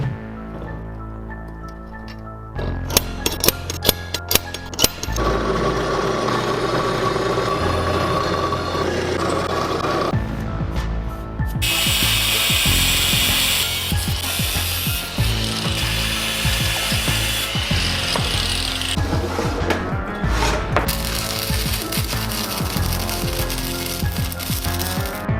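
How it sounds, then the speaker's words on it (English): A power drill grinds loudly into a steel blade, boring bolt holes for a long stretch. The harsh whine and chatter shift in pitch as the bit bites, with no talking. "we need to drill 3 bolt holes in the blade"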